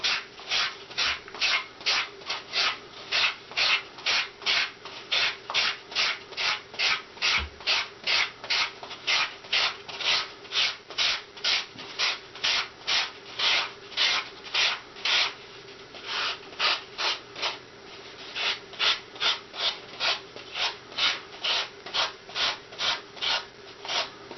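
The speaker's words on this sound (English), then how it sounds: "just take a piece of sandpaper, and just shape the tree further." Steady back-and-forth rasping of sandpaper on floral foam, rhythmic strokes about twice per second, close and continuous with no talking.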